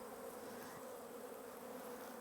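Honeybees buzz steadily over a brood frame of capped brood in a hive in midsummer, a faint, dense, continuous drone with no talking.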